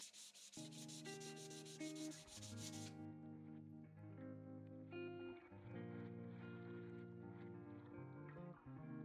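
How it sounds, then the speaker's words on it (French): A brass heart earring is scrubbed with emery: a harsh, scratchy rubbing fills the first three seconds, then stops while background music plays on. "Donc là, je vais le nettoyer avec de l'émery."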